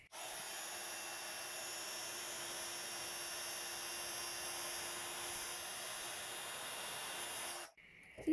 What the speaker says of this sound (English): And I'm just going to heat emboss that.